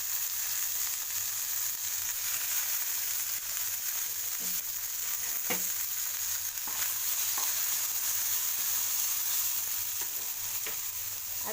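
Fenugreek leaves sautéing in a pan on the way to a potato-fenugreek fried rice, a steady close sizzle with occasional soft stirring scrapes, no voices.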